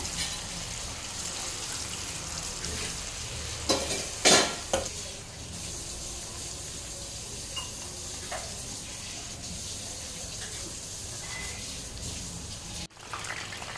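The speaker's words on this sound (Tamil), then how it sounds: "நம்ம எண்ணெய் ரெடி பண்ணிட்டு வச்சுட்டோங்க சூடாயிட்டுருக்கு இப்போ நம்ம எடு ரெடி பண்ணி வச்சுருக்கிற சோயா உருண்டைகள் வந்து அப்படியே எடுத்து போட்டுக்கலாங்க" Soy chunks fry in hot oil, a continuous soft sizzle with a few louder splashing bursts and clatters as pieces drop in and are stirred, otherwise steady and close.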